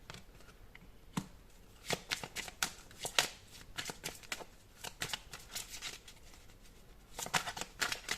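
Tarot cards being shuffled in repeated bursts of crisp riffling and slapping, close and fairly quiet, with short pauses between flurries and no voices.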